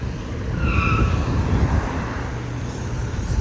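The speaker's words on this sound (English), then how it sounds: "People doing some burnouts" Tires squeal from car burnouts under a steady wash of engine and crowd-like noise, heard from some distance.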